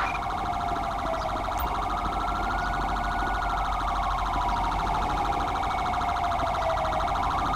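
An emergency vehicle siren wails in Grand Theft Auto V, a loud, continuous rising and falling tone with a steady rumble underneath and no voices.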